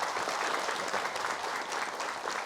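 A studio audience at a television talk show claps in a dense, steady burst of applause, with no voices rising above it.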